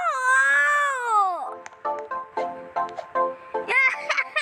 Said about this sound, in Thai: โอ้ยแมวแมว